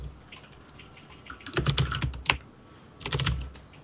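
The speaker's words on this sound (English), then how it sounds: "What are you typing?" Computer keyboard typing during a tabletop role-playing game session, two bursts of rapid, close clattering keystrokes separated by a short pause, with no talk.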